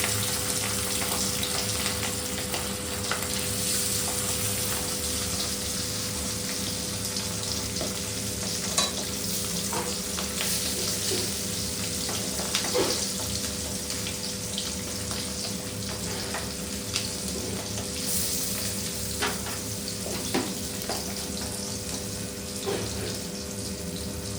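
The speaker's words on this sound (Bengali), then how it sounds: "মাছটা দিয়ে দিলাম মাছটা একটু মাছটা ভাজে" Hilsa fish fries in hot oil with a continuous, even sizzling hiss that lasts the whole stretch, close and steady, with faint occasional clinks and no speech.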